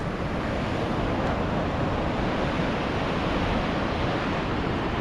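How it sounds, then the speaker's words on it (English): A big waterfall and rushing rivers in Yellowstone make a loud, continuous broadband roar that stays steady and unbroken throughout, with no voices over it. "Big waterfall, rushing rivers."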